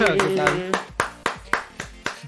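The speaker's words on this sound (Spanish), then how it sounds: "Aplauso, aplauso." A short burst of clapping on an esports talk show, a handful of sharp claps spaced out and fading, with talk and laughter over the start.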